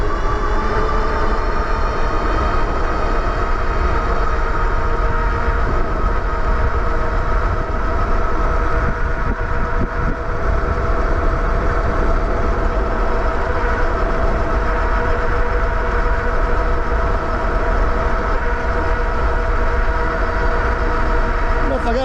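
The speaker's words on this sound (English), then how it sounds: "Wind in my face." Constant wind roar and road rush while riding a HiKEEP MG-T AWD electric bike on throttle at about 29 mph outdoors, loud and unbroken for the whole stretch with a steady tonal hum underneath.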